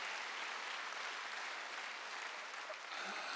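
A church congregation at a Wednesday worship service applauds in a steady, even wash of clapping that fills the room at a moderate distance.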